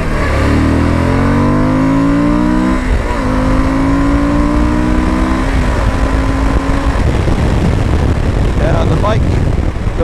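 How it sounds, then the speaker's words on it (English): Suzuki V-Strom 1050 motorcycle engine revving up through rising pitches several times, loud and close, with a rider talking over it. "The bike likes being revved much more than the previous generation."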